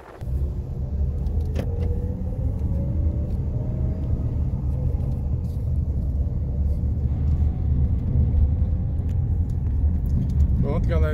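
A car drives into the town of Cariré, producing a steady low road rumble and engine drone from inside, with a few faint clicks and rattles over the constant noise.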